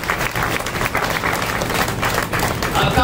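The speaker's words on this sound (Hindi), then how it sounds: "तालियां आपने लगाई।" Audience applause fills the hall at a public address in India, a dense, steady wash of many hands clapping at close range for a few seconds.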